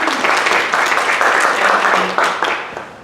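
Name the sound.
round of applause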